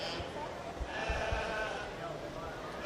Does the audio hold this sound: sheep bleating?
yes